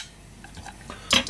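A cooking pot is handled in a home kitchen, soft scrapes and light metallic clinks building to a brighter clatter of pot against metal near the end, close and fairly quiet, with no talk.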